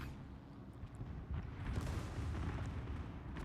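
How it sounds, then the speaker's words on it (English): Battleship in the World of Warships video game firing a full broadside, a dense rumbling roar of heavy guns and explosions rolling continuously for a few seconds. "Full broadside here."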